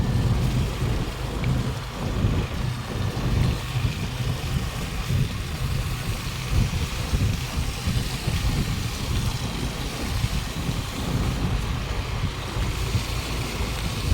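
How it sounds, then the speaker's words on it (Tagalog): Heavy, steady rain pours down continuously amid strong wind, a dense roaring hiss throughout with no voices. "Lakas ng ulan."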